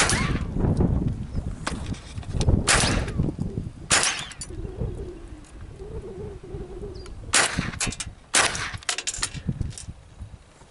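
Several sharp gunshots from a .22 Long Rifle Savage rifle fired outdoors, irregularly spaced single cracks with pigeons cooing faintly between them.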